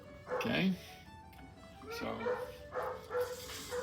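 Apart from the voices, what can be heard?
dog barking in the background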